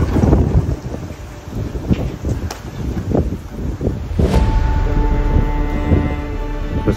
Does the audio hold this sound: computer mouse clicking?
no